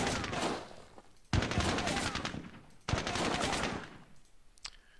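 Squad-level gunfire in the Squad Battles Tour of Duty war game, with loud bursts of rapid automatic fire coming in several long stretches separated by brief pauses.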